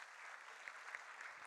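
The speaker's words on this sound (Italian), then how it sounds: "Devo chiamare di nuovo l'applauso del pubblico" Audience applause fills an awards ceremony for a football promotion championship, a steady, fairly faint sheet of many hands clapping with a few brighter individual claps.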